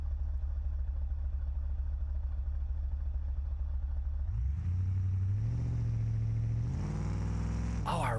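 A car engine in the BeamNG driving game drones loudly and continuously, then climbs through several rising revs and gear changes under nitrous boost, ending in a sharp high surge.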